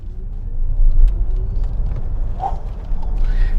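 Large car with a V8 engine accelerating hard, a loud low engine roar and rumble heard from inside the cabin, steady and continuous throughout.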